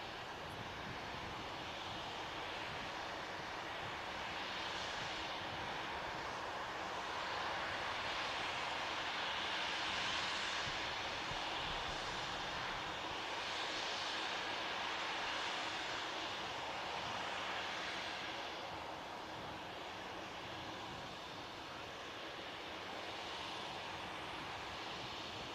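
KLM airliner lined up on a Manchester Airport runway with engines running, a constant distant jet hum and rush that swells gently in waves, no voices.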